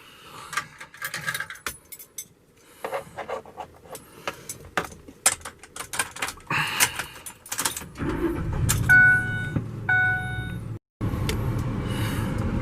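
In a pickup truck heading out on a test loop, keys jingle and the cab rattles with close clatter before the engine turns over and settles into a steady, loud idle hum.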